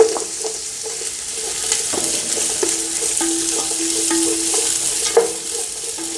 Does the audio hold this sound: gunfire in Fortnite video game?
no